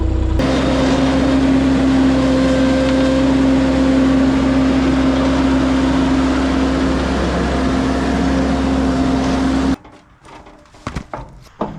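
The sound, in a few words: mini skid steer with forestry mulcher rolling into trailer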